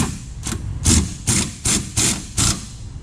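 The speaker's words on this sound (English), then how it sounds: "I got the shock bolt kind of in. It's gonna go all the way in right now." A shock bolt is driven into the rear suspension of a turbo Honda Civic, giving about seven short, evenly spaced mechanical bursts of moderate loudness, close by and with no talk.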